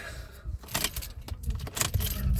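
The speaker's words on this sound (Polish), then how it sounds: "Załączamy kluczyki." Car keys jangling and scraping near the ignition of an Opel Zafira B, a close metallic rattle of several bright chinks in quick bursts, no talking.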